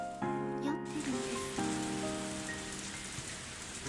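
Steady rain pours down at night in a quiet scene from the visual novel ONE: Kagayaku Kisetsu e, a dense, even hiss that goes on throughout, with soft sustained music tones over it.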